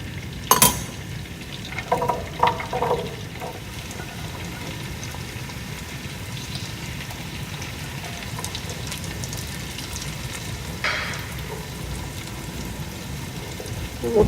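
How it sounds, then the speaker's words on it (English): Celery and onion sautéing in melted butter: a soft, steady sizzle with occasional clinks and scrapes of a utensil stirring in the pan, close up, with no talking. "And we'll saute that just until the vegetables start to tenderize."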